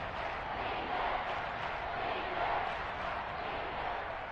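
A dense, steady roar from a Seattle Seahawks stadium crowd during a football game, sustained and loud throughout with slight swells, a wash of many voices with no single talker standing out.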